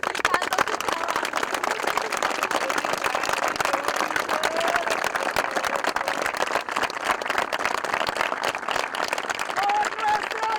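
A crowd at a farewell tribute applauds steadily for the full stretch, a dense, loud roar of clapping with voices calling out through it.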